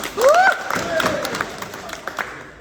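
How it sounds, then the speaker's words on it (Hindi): An audience at a direct selling event claps throughout, a continuous spread of hand claps with a brief whoop or cheer near the start and voices mixed in underneath. "मैं चाहूंगी एक बार सभी के लिए जोरदार ताली होनी चाहिए"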